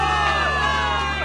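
A crowd of soldiers in the video game Zenless Zone Zero cheers and whoops together, a brief burst of loud, steady cheering with a constant low hum underneath.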